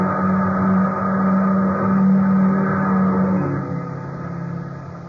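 A car engine hums steadily nearby, its low drone shifting in pitch as it draws closer, a radio drama effect from a 1950s crime serial, heard alone without voices.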